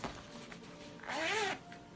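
Zipper on a Tokyo Disney Resort fabric pouch is pulled in one smooth rasping stroke lasting about half a second, close and moderately loud against a quiet room.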